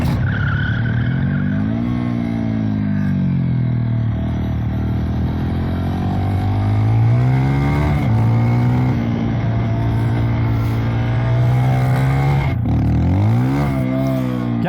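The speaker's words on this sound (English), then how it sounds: "Let's give it some revs." A Honda CRF300L dirt bike engine with custom EFI tuning revs steadily with rising and falling pitch, loud and close, occasional throttle blips and drops and slight hesitation, no voices.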